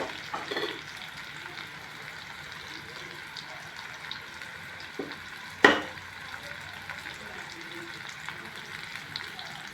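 A pan of vegetables sautéing for a leftover rice and egg dish gives a steady, moderate sizzle, with one sharp clink of a utensil partway through and no talking.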